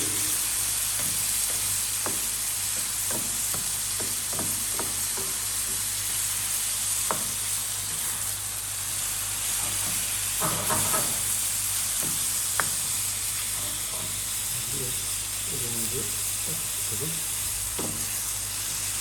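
Menemen with tomatoes and sugar sizzles and fries steadily in a pan over a strong industrial stove flame, with scattered clinks of stirring, and someone speaks briefly now and then.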